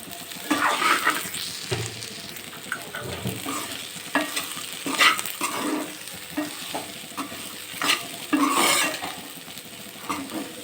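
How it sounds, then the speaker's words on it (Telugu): Bitter gourd pieces frying in a pan are stirred in a village kitchen, producing bursts of close scraping and clattering spoon-on-pan strokes over a continuous sizzle, with irregular rhythm and moderate loudness. "కాకరకాయలు వేసి కలుపుతాం"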